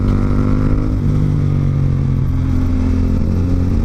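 A motorcycle rides along a shaded road in a Philippine barangay. The engine drones steadily and loudly up close, with a constant rumble and no one talking.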